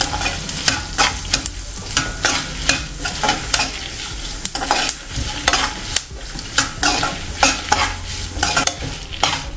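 Red chillies, coriander seeds and cumin seeds dry roasting in a pan, with a spoon scraping and stirring in a steady, repeated rhythm over a soft, continuous crackle, close and fairly loud, with no talking.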